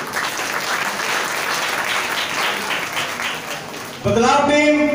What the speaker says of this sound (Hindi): बच्चों से बेनती करता हूं कि एक बार बदलाव टीम के बारे में जोरदार तालियां होनी चाहिए।